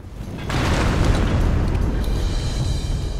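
A loud firecracker blast in the stealth game Mark of the Ninja, a sudden booming burst that sustains as a rumbling, crackling roar for several seconds, close and with no talk over it.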